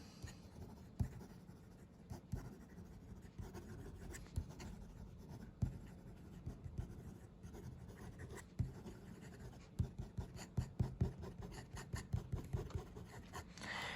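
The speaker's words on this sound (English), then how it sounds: "Let's do some quick writing." A Majohn P136 fountain pen scratches quickly across paper, a faint, close, continuous rasp of rapid strokes that grows busier and more clicky toward the end, with no voices.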